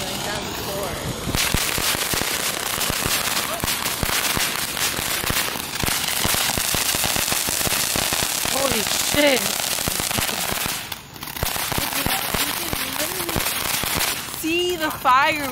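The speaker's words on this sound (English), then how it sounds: "The fireworks." Fourth of July fireworks burst in a dense, continuous barrage of crackles and sharp pops, loud and close. Shouts and excited voices carry over the explosions, with whistling rockets rising near the end.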